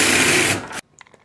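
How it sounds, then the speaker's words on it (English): A drill bores a 23/64 hole through the back of a tube for a homemade camera stabilizer, running loud and steady for under a second before cutting off, followed by faint clicks. "Now take your 23/64 drill bit and drill through the back side of that hole."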